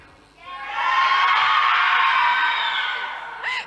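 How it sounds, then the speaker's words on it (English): A school debate audience screams and cheers in a loud, sustained burst of many voices that swells after a brief pause, holds for about two seconds, then fades with a few whoops at the end. "If you are for yes, can I hear you scream?"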